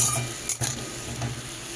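Spices, potato and papaya are stir-fried in oil in a pan, giving a soft steady sizzle with a brief scrape of the spatula partway through, close and quiet.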